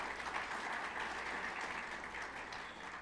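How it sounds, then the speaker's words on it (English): Brief audience applause at a State of the Nation event in Sault Ste. Marie, a soft, distant patter of many hands clapping steadily. "A little applause for those folks."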